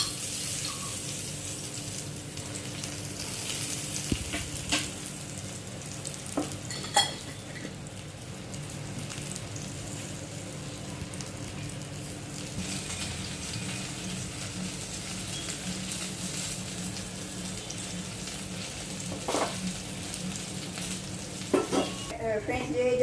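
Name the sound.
brinjal slices frying in oil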